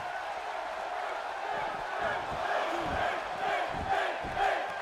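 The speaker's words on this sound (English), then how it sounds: "And the crowd again, chants of Finn here in Brooklyn." A video-game wrestling crowd at an event in Brooklyn fills the scene with steady, loud arena noise, rising into rhythmic chanting swells for the wrestler, with a commentator's voice running over it.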